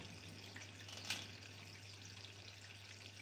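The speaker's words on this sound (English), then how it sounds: "the waterfall is spitting water like crazy" A small vivarium waterfall spraying water, a constant faint hiss and trickle with a brief louder splash, steady under a low electrical hum.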